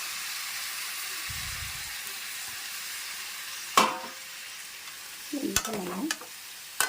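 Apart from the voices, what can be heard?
egg curry with masala frying in a pan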